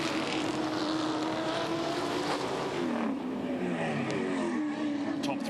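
Touring Car Masters race cars at Sandown in 2014 roar continuously, with engine notes rising and falling as they power sideways out of a corner and pass close by.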